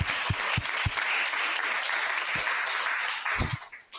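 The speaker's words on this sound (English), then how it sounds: "I think round of applause for Claire." Steady audience applause at a live event in Bali, a dense wash of many hands clapping for about four seconds, with a few louder nearby claps before it fades out.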